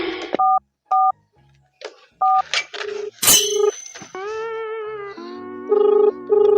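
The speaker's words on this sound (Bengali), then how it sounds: "মনে হয় ওই লেওয়াটাকে ফোন করি আগে।" Telephone keypad dialing: a few short two-tone beeps spaced apart, a burst of clicks and noise, then longer steady electronic tones as the line connects.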